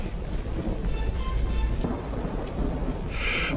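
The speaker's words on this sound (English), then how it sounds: "And that night, the storm arrives." A thunderstorm during a road trip in Norway, with a steady roar of heavy rain and deep rumbling thunder throughout, loud and close, with a brief brighter hiss near the end.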